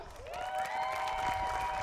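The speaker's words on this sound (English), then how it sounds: "One more big round of applause." An audience at a school team event applauds, with drawn-out cheering voices rising over a steady wash of clapping for the full stretch.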